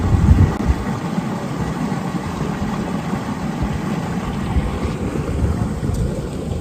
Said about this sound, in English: This is the sound of water.